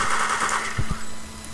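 Gunfire in the video game Return to Castle Wolfenstein sounds as a loud, sharp burst of shots over a steady game hum, with a couple of heavy thumps following.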